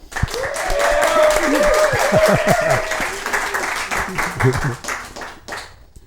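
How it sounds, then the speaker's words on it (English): An audience gives a hearty round of applause for a speaker at a talk on psychedelic medicine and harm reduction, with dense clapping swelling and then fading over several seconds while voices and cheers mix in. "Well, that was the heartiest round of applause I think anyone's got."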